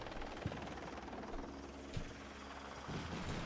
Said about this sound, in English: Oh, helicopters again.